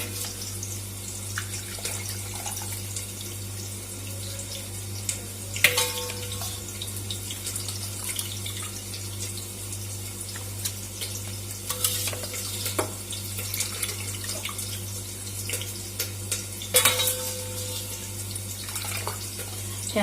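Steady running water from a tap splashes into a sink, with occasional clatters and knocks as mutton offal is rinsed under the stream.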